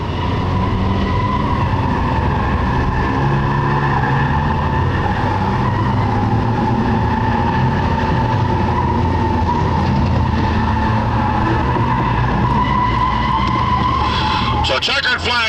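Race cars circling the track at the checkered flag, a loud, continuous roar of engines and tire noise with a commentator talking over it, rising to a brief clatter at the very end.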